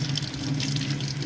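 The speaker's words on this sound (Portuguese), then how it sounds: "vou lavar embaixo da água corrente para retirar o excesso de bicarbonato que ficou" Tap water runs steadily from a faucet over a crystallized squash being rinsed in a sink, a close, continuous splashing hiss with no talking.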